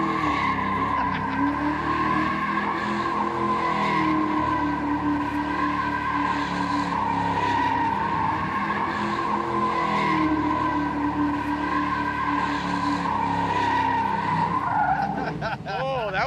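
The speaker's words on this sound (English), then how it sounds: "that was a pretty damn good donut" A Mustang spins a donut, tires skidding and squealing continuously over a loud, droning engine for the whole stretch, with people talking underneath.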